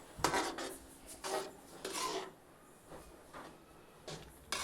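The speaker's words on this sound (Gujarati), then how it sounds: "તો આ રીતે હલાવતા રહી આપણે બધી વસ્તુને પાકવા દેશું." Manchurian gravy being stirred in a pan on the stove, with repeated scraping and rubbing strokes of a utensil against the pan in short irregular bursts, close and moderately loud, with no talking.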